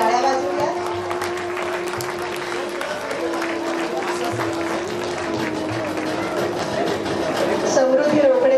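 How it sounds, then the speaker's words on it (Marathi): Applause from a seated audience at a school sports day prize ceremony, a steady wash of clapping that holds for several seconds, with faint voices and a soft tone running beneath it. "तिच्यासाठी आणि तिच्या पालकांसाठी आपण टाळ्या वाजवूया"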